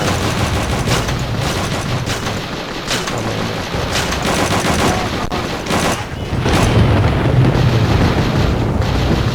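Dense gunfire from the video game Call of Duty: Roads to Victory fills the scene, with repeated loud shots and crackling bursts over a constant battle din.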